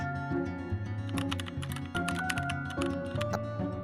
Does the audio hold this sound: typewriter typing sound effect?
yes